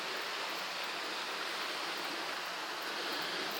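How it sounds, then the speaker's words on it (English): A creek near a base camp at about 120 feet elevation flows steadily, a continuous broadband rush of water with no breaks, close and even. "creek that we see here very soon gets into the Fraser River"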